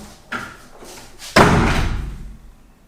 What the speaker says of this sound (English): Okay, can you close the door?